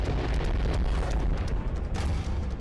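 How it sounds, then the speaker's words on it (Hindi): Volcanic eruption producing a continuous dense roar of rumbling blasts, with heavy low booms and bursts of crackling noise, loud and sustained throughout without any voices. "तब आता है ज्वालामुखी। धरती फट पड़ती है,"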